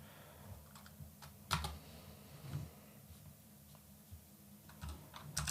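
Computer keyboard typing while entering commands at a terminal, scattered sharp key clicks in small irregular bursts, fairly quiet and alone over a low background hum.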